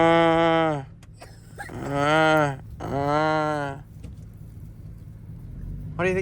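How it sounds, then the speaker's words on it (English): Black cattle, including steers and a heifer, low loudly with several long drawn-out moos, one after another, close by, over a steady low engine rumble. "These are black cows. A couple steers, steer and a heifer."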